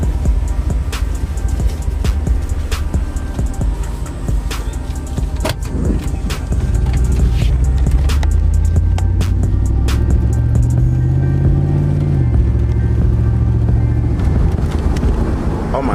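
A 1996 Chevrolet Camaro Z28 with its V8 running on a test drive, a loud, close engine rumble that rises as it accelerates through the gears, with cabin rattles and brief talk.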